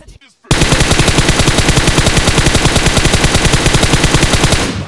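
Gunfire in the mobile battle-royale game BGMI (PUBG Mobile): one long, loud burst of rapid automatic fire lasts about four seconds and stops abruptly after a brief quiet start.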